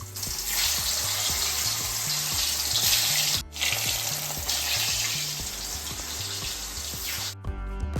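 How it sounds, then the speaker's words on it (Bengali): Potatoes fry in hot oil for a Bengali mutton curry, making a loud, steady sizzle close by with a short break midway, over a rhythmic musical backdrop. "মাংস সিদ্ধ হতে হতে চলুন এদিকে আলুগুলো ভেজে নেওয়া যাক"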